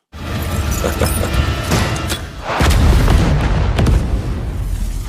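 Loud, rumbling explosion blasts, with a deep boom swelling partway through and crackling debris-like noise trailing on.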